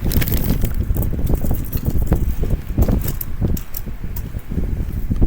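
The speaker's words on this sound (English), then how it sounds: "It's a bit windy out here." Wind buffets a microphone outdoors with continuous low rumbling gusts and crackly bursts that rise and fall throughout.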